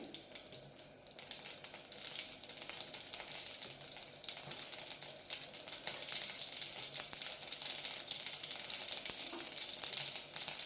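Mustard seeds and cumin splutter and crackle in hot oil, a dense, fairly faint sizzle peppered with sharp pops that grows a little busier over time, heard up close with no talking.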